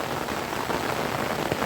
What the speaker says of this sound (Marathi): थोडासा आवाजाचा प्रॉब्लेम होईल कारण की पावसाचा आवाज आहे त्यामुळे